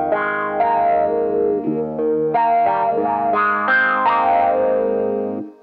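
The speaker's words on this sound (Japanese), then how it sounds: "なんてことないアルペジオ" Electric guitar picking a simple arpeggio through a Carl Martin auto-wah filter pedal, each plucked note sweeping with a vocal, filtered tone; continuous and close for several seconds, no talking.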